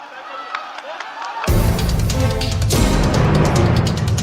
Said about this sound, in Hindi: एक बार आपके लिए ताली जरूर बजाओ।